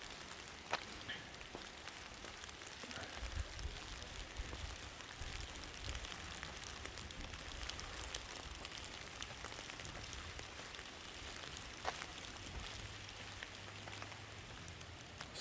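Steady rain falls on a lakeside trail, a soft continuous patter with occasional sharper drops, faint and even throughout.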